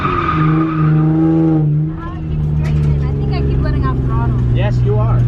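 Car drifting with engine revving and tires skidding, a loud sustained engine drone with rising pitch sweeps, while a person talks over it.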